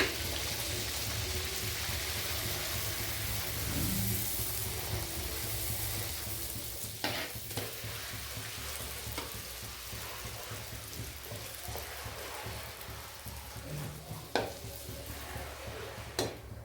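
Puris deep-frying in hot oil, a continuous dense sizzle and bubbling with a few sharp clinks and scrapes of a utensil turning them, heard alone without speech.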